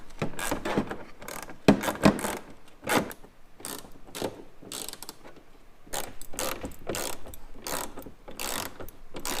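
Ratchet clicking as 10mm bolts are backed out of a Jeep Wrangler JL fender near the daytime running light, a run of close, rapid mechanical clicks and metallic clatter with brief louder knocks.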